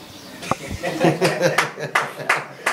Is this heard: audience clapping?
yes